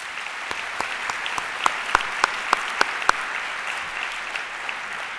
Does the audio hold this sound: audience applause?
yes